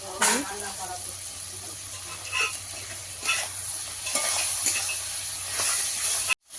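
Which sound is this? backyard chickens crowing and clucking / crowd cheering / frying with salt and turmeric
frying with salt and turmeric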